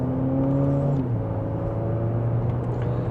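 A Nissan Murano Platinum SUV accelerating hard in sport mode, second gear: a loud, close engine drone rising steadily in pitch, then dropping briefly at a shift before climbing again, heard alone without talk.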